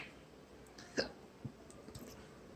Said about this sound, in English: Pardon my hiccups.